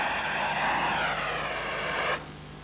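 A dry powder fire extinguisher discharges onto a petrol fire running down corrugated iron, giving a steady, loud hissing rush for about two seconds before cutting off abruptly, leaving a faint low hum.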